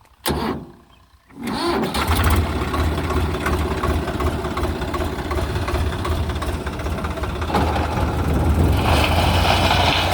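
A Swaraj tractor engine starts after a short quiet gap and then runs steadily, a loud, close, low rumbling idle that holds throughout and swells slightly near the end.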